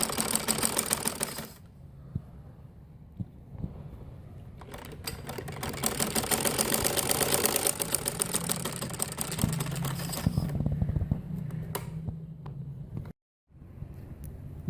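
A sewing machine stitches a frock in a bursty rhythm, with fast whirring runs of needle clatter separated by short pauses. A brief run comes first, then a long continuous stretch, then quieter handling noise.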